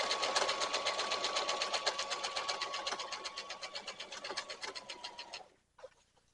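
A sewing machine stitches hemming on a rifle carrier in a fast, even run of needle strokes. It sounds close and clear, then stops abruptly, followed by a brief clunk.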